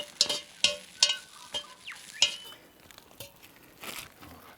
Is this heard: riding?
no